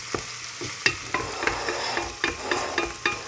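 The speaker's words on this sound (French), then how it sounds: "Et bien tourner l'oignon pour ne pas que ça brûle, pour ne pas qu'il reste dans la même place." Onion frying in a pan as the base for a homemade bolognese sauce, stirred with quick repeated scrapes and taps over a low, even sizzle, close and with no voices.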